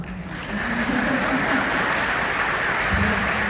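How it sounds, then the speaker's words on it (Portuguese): An audience at a lecture on sport and success breaks into steady, dense applause that fills the whole stretch at a moderate, even level, with a faint low hum beneath and no talking. "Então, por favor, me aplauda."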